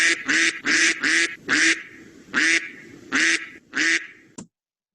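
A duck quacks loudly and repeatedly, eight nasal honking calls in a steady rhythm with short gaps between them, close by and clear.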